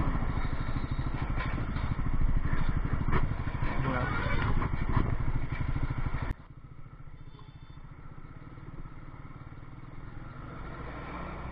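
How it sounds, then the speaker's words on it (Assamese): A Triumph 400 motorcycle, Speed 400 or Scrambler 400X, revs with a loud, steady exhaust note, then drops abruptly to a quieter, lower idle-like rumble for the second half. "আমি ঘূৰাম ইয়াতে এক্সজষ্ট নোটটো ভাল আছে নে কি ক'ব আপুনি"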